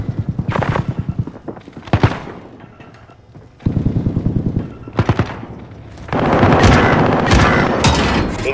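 Loud bursts of rapid automatic gunfire in a Call of Duty game, several rattling volleys separated by brief pauses, ending in a sustained dense barrage close up.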